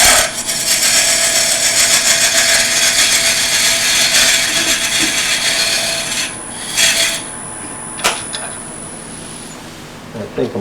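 A wood turning tool scraping a drilled cut in a spinning wooden tea light holder on a lathe, a continuous loud rasping hiss that eases off near the end, with a voice at times.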